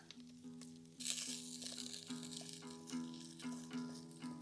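Chorizo pork sizzles in a pan over a campfire as it is pressed flat, a close, crackling sizzle with repeated scraping and metallic taps of a utensil against the pan.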